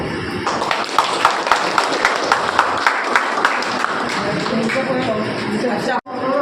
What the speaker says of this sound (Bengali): হাততালি দেওয়া সম্মান জানাবো